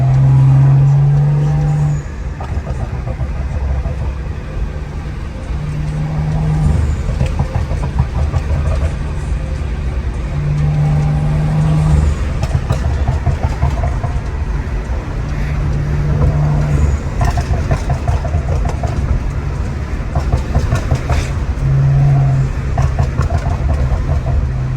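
A BMW 535i fitted with a loud custom intake, heard from inside on a drive as a steady, close engine drone with a low hum that keeps rising and falling and runs throughout.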